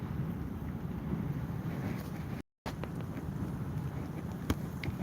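Strong wind buffets the microphone in a steady low rumbling roar, continuous and close, with a brief dropout and a faint tick near the end.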